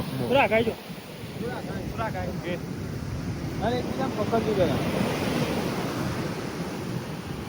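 Surf rolls onto the Dwarka beach in a continuous wash. Wind noise sits on the microphone, and people talk briefly over the waves.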